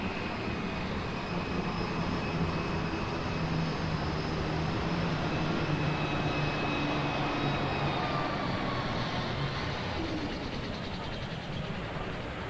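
A deep, continuous engine roar holds steady and loud throughout, with droning harmonics that slowly shift in pitch, from alcohol-burning pulling tractors running flat out at the 1996 National Farm Machinery Show.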